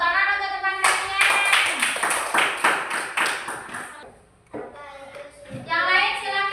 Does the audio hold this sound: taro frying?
no